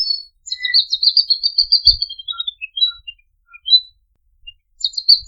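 A male magpie robin sings from a high perch in breeding season, a clear run of bright, varied whistled phrases with short pauses, then a fresh burst at the end, close and alone with no talk.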